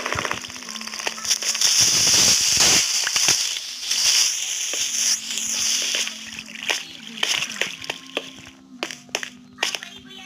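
Firecrackers going off in the Minecraft video game, a dense burst of crackling pops followed by scattered sharp bangs, with character voices talking over parts of it.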